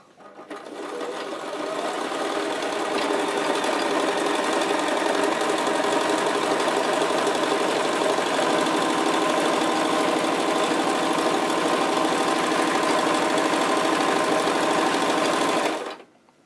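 A sewing machine runs a zigzag stitch in one continuous close whirring drone, starting up, holding steady for about fifteen seconds, then stopping abruptly.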